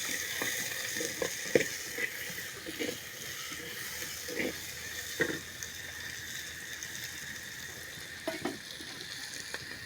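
Onions frying in hot oil for an egg curry after bay leaf and cloves have been fried, giving a steady, close sizzle with occasional soft stirring clicks and scrapes.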